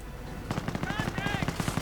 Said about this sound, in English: And there we go, 17-pounder gun fires away.